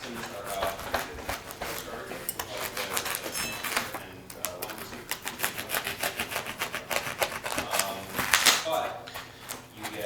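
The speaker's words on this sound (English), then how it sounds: "We're going to cut it all the way through." A blade cuts all the way through a foam part of a Team Legit FG36 flying-wing model, giving a dense run of rapid, scratchy ticks and crackles close up, with a voice speaking at times.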